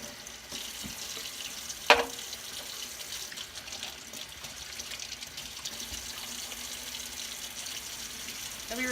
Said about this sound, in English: And I'll just go ahead and top it off with cold water.